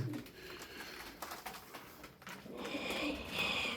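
Milk-white tumbler pigeons, one male and two females, coo in low throaty rolls close by, with a faint mechanical whir and some brighter chirpy noise rising toward the end.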